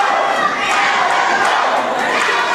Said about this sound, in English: Great crowd getting very much behind the action here in SWE Fury.